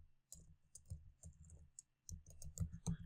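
Code is typed on a computer keyboard in quick irregular bursts of crisp, close key clicks, with a short pause partway through.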